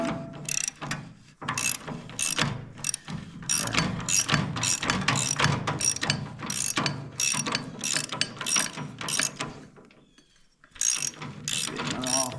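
A ratcheting wrench works a bolt loose during repairs aboard a 36-foot boat, giving a close run of quick repeated clicks in short bursts, with a brief lull before the clicking picks up again.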